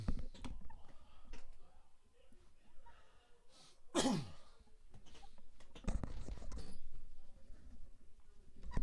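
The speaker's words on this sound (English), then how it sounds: "I'm coughing so much." Several coughs and throat-clearing noises, fairly close, with rustling and quiet handling sounds between them and no clear speech.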